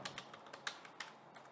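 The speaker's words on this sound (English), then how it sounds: "inside this first I'm going to type in x-test dot flatten" Quick, light keystrokes on a computer keyboard tap out an uneven rhythm of short clicks, close and fairly quiet, with no talking.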